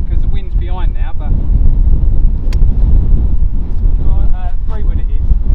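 Wind buffeting the microphone on an open golf course at Sun City Country Club, a loud steady rumbling roar throughout with someone talking over it.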